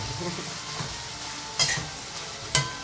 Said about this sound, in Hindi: अब ये इतने फ्राई हो रहे हैं